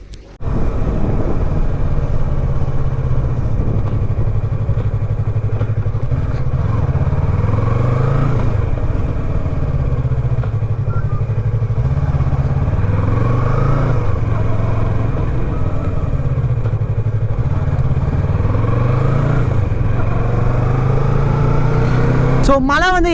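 Steady roar of superbikes, including a ZX-10R, an R3 and a 390, riding along continuously, with rising and falling revs and a constant mid-pitched drone throughout.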